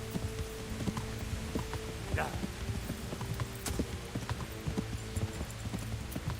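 A horse gallops in the video game Kingdom Come Deliverance, its rapid rhythmic hoofbeats running steadily throughout over a busy game soundscape.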